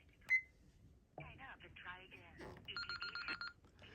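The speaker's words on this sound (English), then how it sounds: "You'll hear the confirmation or error tone from the base and the burst of noise on the handset." A Panasonic TCM422 phone system: a short beep, then a burst of noisy, warbling tones and a run of rapid beeps from the base and handset, faint and electronic, with talk around them.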